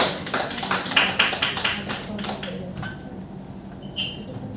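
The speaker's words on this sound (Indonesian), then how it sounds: "Tepuk tangan untuk dia." Classroom clapping for a student, a quick burst of sharp, close hand claps that tapers off over a couple of seconds, followed by a quiet room with faint noises.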